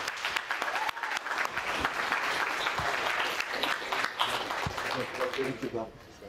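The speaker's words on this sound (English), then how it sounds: "give Chase one more round of applause" Audience at a post-fight press conference applauding Chase, a dense burst of clapping close by that holds steady for several seconds before thinning out toward the end, with voices mixed in.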